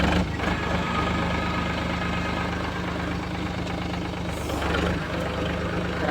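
A tractor engine runs steadily in the rain, a loud, continuous low idling rumble that holds for several seconds, heard close by with no one talking.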